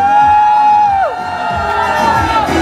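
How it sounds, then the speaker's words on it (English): An audience at a makeup and hair academy grand finale cheers loudly, shouting and whooping in a dense wash of voices. A sustained tonal whoop bends downward near the middle as the noise keeps going. "Okay, everybody, make some noise."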